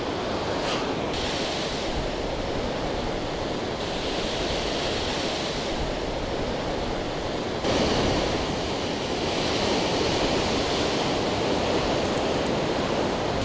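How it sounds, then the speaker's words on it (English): Heavy surf roars without a break at Albany, Western Australia, a dense rushing wash of water with wind noise hitting the microphone and a surge partway through. "The waves are so powerful here, it's insane."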